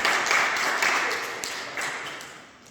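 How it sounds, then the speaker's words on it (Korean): A church congregation applauds together after an infant baptism is announced at an Easter Sunday service in Bielefeld, Germany, a steady mid-distance wash of clapping that gradually fades. "박수 주시기 바랍니다"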